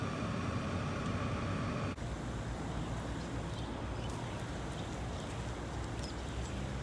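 Car air conditioning blows steadily inside a vehicle on a hot day in Missouri, a constant broadband hiss and rush filling the cabin, fairly quiet with no talk.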